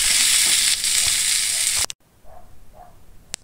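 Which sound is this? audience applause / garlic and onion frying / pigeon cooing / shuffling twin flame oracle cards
garlic and onion frying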